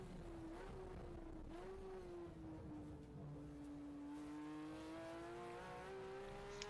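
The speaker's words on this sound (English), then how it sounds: "The throttle input sounds really nice." GT3 Cup race car on a hot lap at Utah Motorsports Campus, the engine held under throttle with a continuous loud tone that climbs steadily in pitch, heard alone with no talking.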